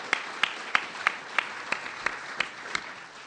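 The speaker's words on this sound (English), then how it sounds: "let's please join me in giving our panel a warm applause" Audience applause for a panel at a conference on molecular medicine and FDA regulation: a thin, steady run of distinct claps, evenly spaced about every third of a second, moderately loud and without voices.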